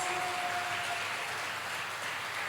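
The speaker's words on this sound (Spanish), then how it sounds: "Dele fuertes palmas al Señor Jesús." A church congregation claps loudly and continuously, a dense wash of applause filling the room with no voices.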